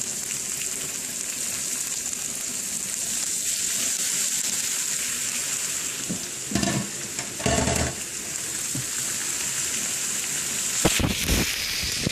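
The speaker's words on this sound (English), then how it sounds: "Stir fry it till it comes to a light brown" Onions and pork sizzle steadily in a hot pan for pork fried rice, a continuous frying hiss punctuated by a few louder scraping stirs.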